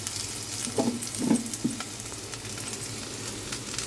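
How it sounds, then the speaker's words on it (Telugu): Tomatoes and okra frying in a pan for tomato pulusu give a steady, close crackling sizzle with a few soft stirring clicks. "టమాటాలు కొంచెం బెండకాయలు కొంచెం వేగాయి."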